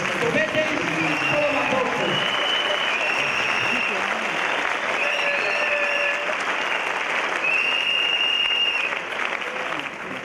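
An audience at a church anniversary ceremony applauds continuously with dense clapping that holds steady and then thins slightly at the end, while a voice speaks faintly underneath.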